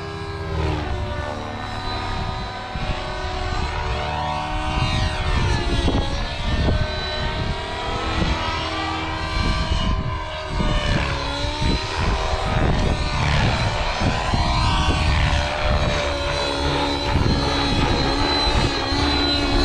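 An OS nitro engine drives a SAB Kraken 580 RC helicopter in flight, a loud, high-pitched buzzing whine with rotor chop that rises and falls in pitch as the model passes and maneuvers.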